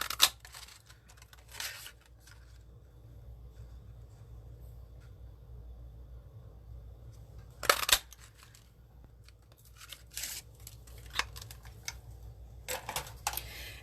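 Paper daisies pre-stamped on Melon Mambo cardstock being cut out with scissors, a run of soft, irregular snips and paper rustles close by, with a few louder crisp cuts and handling noises over a low steady room hum.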